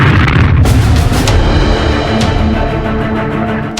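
Aftermath of a passenger plane crash in a residential area of Ahmedabad, a loud continuous roaring rumble with sharp bursts early on, heard alone without voices.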